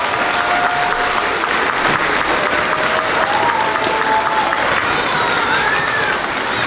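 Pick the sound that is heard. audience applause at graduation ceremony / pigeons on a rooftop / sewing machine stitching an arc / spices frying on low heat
audience applause at graduation ceremony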